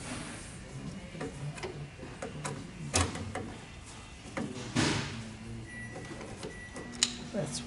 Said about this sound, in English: we're going to get our Phillips head screwdriver and we're going to remove those screws